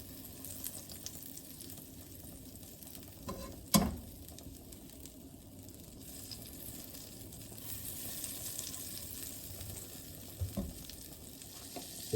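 Onions and mushrooms sizzle and fry in melted butter in a pan, a steady soft crackle running throughout with a sharper clatter near the start, no voices over it.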